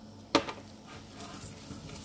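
Sweetened bean filling stirred in a pot with sugar: one sharp clink of the utensil against the pot, then quiet scraping and a low simmering hiss.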